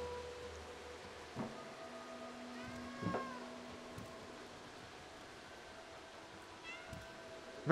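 Cats in the video game Stray give a few soft, distant meows spaced several seconds apart over a quiet ambient background with light rain-like hiss.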